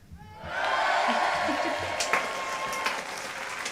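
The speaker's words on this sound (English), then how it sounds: "Lovely round of applause." An audience applauds on a livestream as artist Leah Darknell is welcomed: the steady clapping starts after a brief lull, stays even and moderately loud, then slowly thins out.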